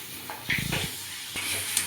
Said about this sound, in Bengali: এটা আমি 15 মিনিট তক কষে নিচ্ছি